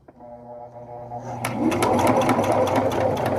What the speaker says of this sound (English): I am finally starting to sew.